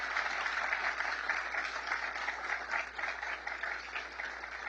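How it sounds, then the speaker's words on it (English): Audience applause at a conservative think tank event in Washington, D.C., a steady dense wash of clapping held at an even level throughout, fairly distant and with no voices over it. "You could give her a round of applause if you agree with me."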